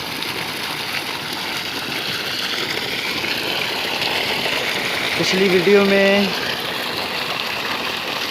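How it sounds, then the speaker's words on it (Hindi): A 3 HP water pump motor runs while it delivers water, giving a steady rushing, gushing flow. Someone speaks over the constant noise. "आप देख रहे हैं ये हमारी मोटर ने पानी डिलीवर कर दिया है।"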